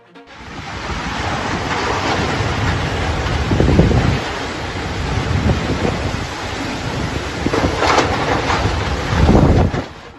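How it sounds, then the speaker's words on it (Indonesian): Tornado winds in Villafranca, Valencia, Spain: a roaring, continuous rush of wind buffeting the microphone, swelling in heavy gusts around the middle and again near the end, loud and close with no voices. "Tornado menerjang Valencia,"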